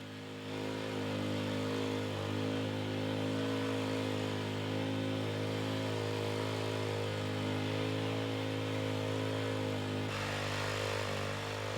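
A motorized rotary tiller loosening the surface layer of lawn soil, at least 30 cm deep, drones steadily and loudly at close range throughout with no speech.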